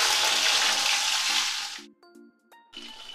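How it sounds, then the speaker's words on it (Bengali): Hilsa fish frying in mustard oil in a kadai gives a loud, broad sizzle for nearly two seconds, then cuts off, leaving faint clinks and hums before a brief sizzle returns. "মাছটা কড়াইতে দিয়ে দিয়েছি,"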